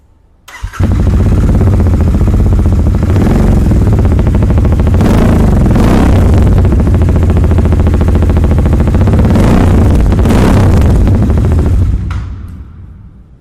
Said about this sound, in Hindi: मैं आपको इसका एग्जॉस्ट नोट दिखाता हूँ जो मेरा फेवरेट है।